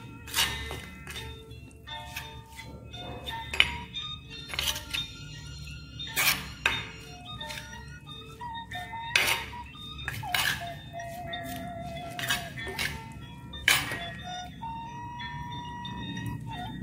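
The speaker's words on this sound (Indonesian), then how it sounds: "Kita aduk, aduk." Utensil stirring peanut pencok in a dish, giving a continuous series of irregular clinks and scrapes against the bowl, fairly close and steady, with no talking.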